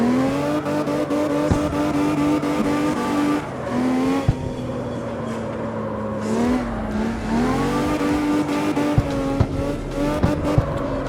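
A loud, steady V12 engine drone with shifting pitch as revs rise and fall, with tire squeal from a CarX Street video game car sliding through a drift.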